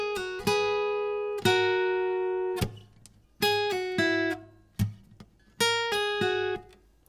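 Acoustic guitar plays the main riff of a song, a looped pattern of clear plucked chord stabs and sustained harmonic notes in short bursts with brief gaps, close and alone without talking.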